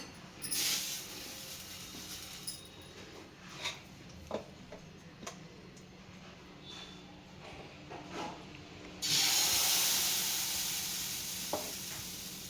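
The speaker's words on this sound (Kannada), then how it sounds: "ಇವಾಗ ಹಂಚು ಕಾದಿದೆ, ಸ್ವಲ್ಪ ಎಣ್ಣೆ ಹಾಕ್ಬಿಟ್ಟು" Oil sizzles and crackles on a hot dosa griddle pan, a steady hiss punctuated by small ticks and pops, swelling louder near the end as more oil spreads across the heated surface.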